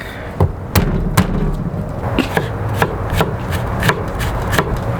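Garlic cloves are chopped on a board with a knife, giving a steady run of sharp, close thuds roughly every few tenths of a second, loud and uninterrupted, with no voices.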